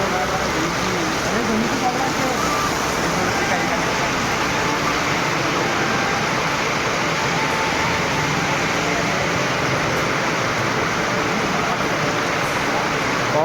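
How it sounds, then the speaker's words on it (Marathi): Heavy rain pours in a dense, continuous hiss that stays loud and unbroken from start to finish. "पाऊस पडतोय भरपूर."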